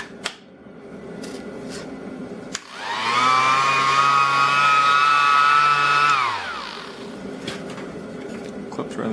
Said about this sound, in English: So this is my first cordless sander.